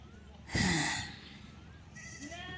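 Goats on a Tamil farm let out one loud, close bleat lasting about half a second, followed by softer, shorter bleats near the end of the clip.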